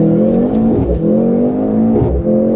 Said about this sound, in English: The electric motor heats instantly. The petrol engine joins in immediately afterwards.